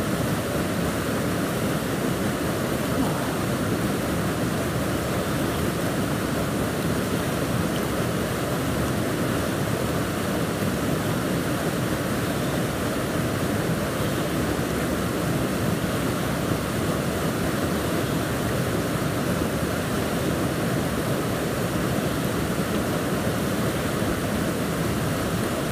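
A secret waterfall rushes in a steady, dense roar of falling water that stays loud and unchanging throughout, with no voices.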